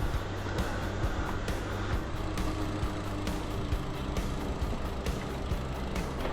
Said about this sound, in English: Oh yeah, cement trucks.